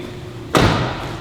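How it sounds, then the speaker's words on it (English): A truck door swings shut with one solid, heavy thud that rings briefly and fades, heard alone with no talking. "that door shut is nice"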